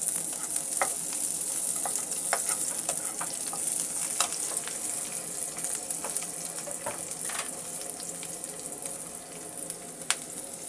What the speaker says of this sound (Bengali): শুকনো মরিচ, কাঁচা মরিচ, শুকনো মরিচ আমি পুরোটাই পেঁয়াজের সঙ্গে ভেজে নিচ্ছি